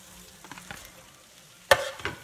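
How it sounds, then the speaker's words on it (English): Pasta drops into a hot Tex Mex skillet and gives one sudden sizzling burst after a stretch of quiet, with a second smaller sizzle following. "Okay, I'm going to add in our pasta."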